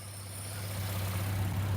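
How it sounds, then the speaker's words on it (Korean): Chevrolet Colorado pickup with a 4-inch off-road lift, idling with the hood open; a steady, quiet low engine hum holds alone, gently rising in level. "마지막으로 엔진 사운드 확인해 드릴게요."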